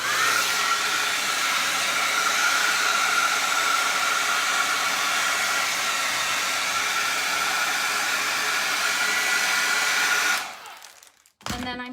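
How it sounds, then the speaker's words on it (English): A hair dryer blows on fresh paint on a thrifted pumpkin, a loud steady whooshing whine held for about ten seconds before cutting off, then a brief handling clatter at the end. "I'm just gonna hit it with a hair dryer for a second."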